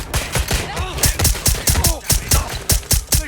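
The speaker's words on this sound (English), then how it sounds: "Being shot at here!" Loud, close gunfire in Watch Dogs Legion, with sharp shots cracking out in quick irregular bursts, repeating steadily for several seconds.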